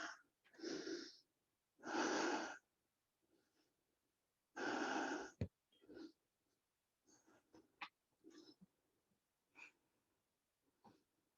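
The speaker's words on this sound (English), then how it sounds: "Deep breathing." Heavy, deep breaths from a person doing a plank-style hold during a HIIT Tabata warm-up, coming in several loud bursts of inhale and exhale with softer gasps and breaths between them, close up and with no one talking.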